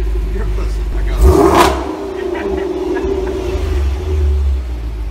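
A Hemi V8 with nitrous and big exhaust pipes roars loudly close by, a sharp rev burst followed by a heavy, steady rumbling idle, with people talking over it.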